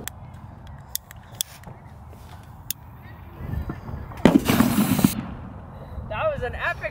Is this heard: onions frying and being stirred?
no